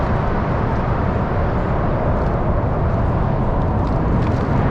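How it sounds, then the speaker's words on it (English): Cars approaching through a tunnel on a Pacific Coast cycling route, a deep continuous roar that echoes and builds steadily as the vehicles close in from behind, loud and enveloping with no talk. "The incoming cars sound like they're coming right behind you as they get closer."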